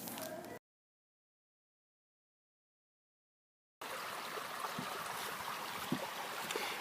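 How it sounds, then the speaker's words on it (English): A stream of flowing water gives a steady, broad rushing wash. It runs briefly, cuts out to silence for about three seconds, then comes back constant and fairly close with no talking. "Streams are bodies of water with a current surrounded by a bed or stream banks."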